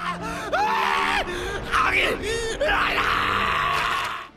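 An Attack on Titan character screams and wails while a titan slowly eats him: loud, drawn-out, wavering cries with groans and gasps in between, close and dramatic, running almost the whole time.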